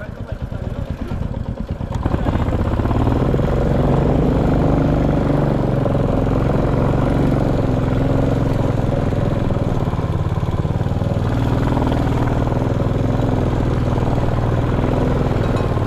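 A Bullet motorcycle engine runs steadily on a ride through the Dolakha hills toward Kalinchowk, a loud continuous rumble that starts after a brief quieter moment and carries on throughout.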